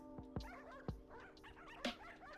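A dog character's voice in the video game Dog Witch gives a few short, sharp barks and yips, with quieter whimpering sounds between them over faint background music.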